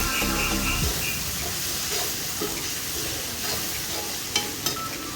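Vegetables for vegetable biryani sizzle steadily in a hot pan over a wood-fired stove with a continuous hiss, broken by a few utensil scrapes and taps.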